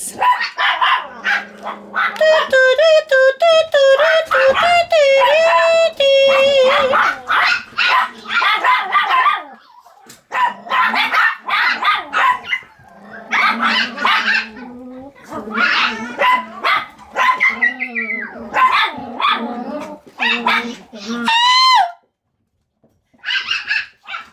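Yorkshire terriers bark and yip almost continuously at close range, high excited calls piling over one another, with only a short pause near the end.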